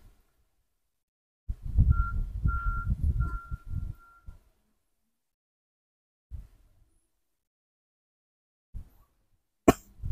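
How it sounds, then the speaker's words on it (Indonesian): A man coughs in a rough, low burst of several hacks close by, followed later by a couple of short single coughs and a brief sharp sound in an otherwise quiet room. "Hobi ngeliatin saya batuk teman-teman."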